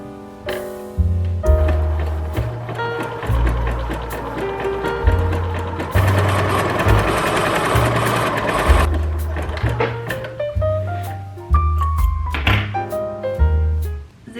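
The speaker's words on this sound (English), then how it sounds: "Zigzag stitch right at the edge, fold it over by 2 centimeters, and then stitch right over the stitch of it" A sewing machine running a zigzag stitch along a fabric edge, with a loud, steady mechanical whirr in several long runs broken by brief pauses and thunks.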